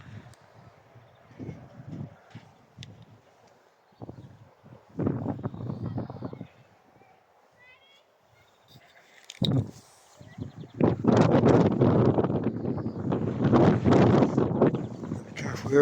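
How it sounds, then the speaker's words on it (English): Wind buffets the microphone outside a church in Low Ham, Somerset, in rumbling gusts that come and go, growing loudest and most sustained near the end. "It's a bit windy out here today. Hope don't spoil the sound too much."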